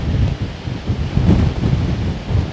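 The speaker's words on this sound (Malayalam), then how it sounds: "എപ്പോഴും കൊടുങ്കാറ്റ് വീശുന്ന ഒരു സ്ഥലമാണ് ഇതൊന്ന്" Strong gale wind buffets the microphone at Kattikkayam waterfalls in Kottayam, a steady loud roar with rumbling gusts and no voices.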